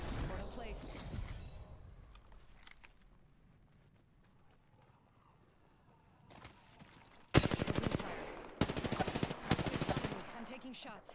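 Gunfire in Apex Legends during a squad fight: after quiet stretches with voices, dense rapid bursts of weapon fire erupt near and loud in two long volleys, with team chatter underneath.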